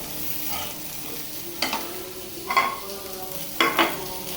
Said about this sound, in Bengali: কিপটামি করে আজকে বেগুন ভাজি করেছি কম তেলে